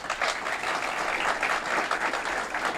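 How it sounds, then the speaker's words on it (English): A crowd at a city road development project announcement applauds, a fairly quiet but sustained wash of clapping from a distance, with no speech over it. "Chief of Staff Alex Alexandra, let's give him a round of applause."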